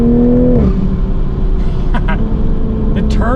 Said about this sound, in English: here is windows down and then acceleration